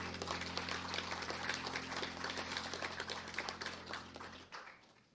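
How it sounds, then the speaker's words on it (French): Sustained applause from a crowd at a graduation ceremony, many hands clapping steadily and fairly distant, then tapering off and fading at the end. "bonne main d'applaudissements encore pour nos diplômés du programme de lettres"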